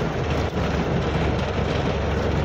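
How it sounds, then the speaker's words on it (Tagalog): Heavy rain pours in a steady, dense roar of broadband hiss, loud and unbroken throughout with no voices. "Grabe yung ulan, no?"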